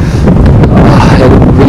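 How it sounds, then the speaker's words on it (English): Strong wind on a steep climb of Mount Batur, Bali, buffets the microphone in a loud, constant roar of low rumbling noise, with no voices. "very strong wind today."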